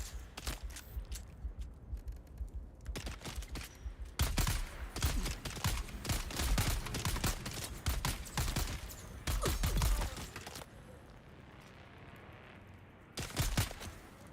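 Rapid gunfire from a pistol and assault rifle in the video game Dune Awakening, loud bursts of repeated shots broken by short pauses, with faint footsteps and scraping between volleys.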